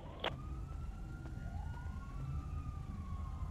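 A faint ambulance siren in the police game GTA 5 with the LSPDFR mod rises and wails slowly over a steady low engine rumble, with a brief sharp click near the start.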